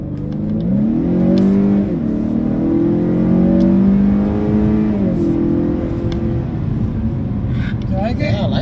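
A 2018 Honda Accord 2.0T in sport mode accelerates at half throttle, its engine note climbing loudly from inside the cabin through two gear shifts, with people talking over it.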